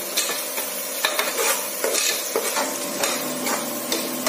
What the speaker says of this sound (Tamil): நல்லா இன்னும் கொஞ்சம் ஃப்ரை ஆகணுங்க.